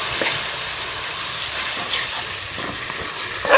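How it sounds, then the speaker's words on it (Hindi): Tomato paste sizzling in a spoonful of hot ghee in a karahi, a steady crackling hiss with a few soft stirring scrapes and a small bump at the end. "कढ़ाई में मसाला बनाने के लिए मैं 1 चम्मच घी डाल लेंगे। इसके अंदर हम ये टमाटर का पेस्ट डाल देंगे।"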